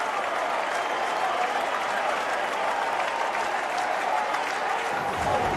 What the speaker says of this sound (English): That's his first triple on the year, and it gets this crowd excited.